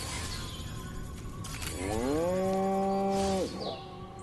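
A cow from the Destroy All Humans video game gives one long, loud, drawn-out moo that rises and then holds steady before cutting off, alone over faint background ambience.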